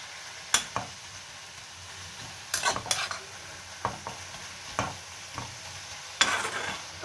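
Radish pieces cooking in water inside a frying wok, with a low steady bubbling simmer broken by several sharp clinks and scrapes of a spoon stirring against the pan, close and fairly quiet.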